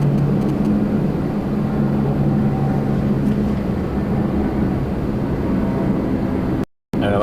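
A plane taking off at Toronto Pearson airport, heard from inside a Holiday Inn Express through a window: a steady, muffled roar with a low hum that holds for about seven seconds before a brief dropout.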